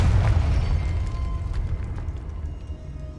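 A fiery blast from the Confringo spell in Hogwarts Legacy bursts loudly at the start, its deep rumble slowly fading over a few seconds with scattered crackles.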